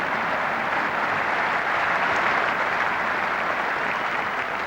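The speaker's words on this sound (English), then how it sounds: "this crowd now will give him a wonderful ovation" A large cricket crowd at The Oval during a 1990 England v India Test match gives a sustained ovation, steady, dense applause filling the whole stretch with no voices standing out.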